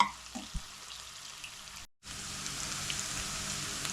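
Potatoes and green chillies frying in a pan with browned onions, a steady crackling sizzle with a brief gap as the potatoes go in, then a fuller, louder sizzle.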